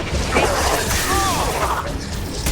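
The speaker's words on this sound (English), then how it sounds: "Firing a high impact shot." A high impact shot fired in the Mass Effect game, a loud bursting impact with a whooshing, mechanical swell amid dense, noisy game action.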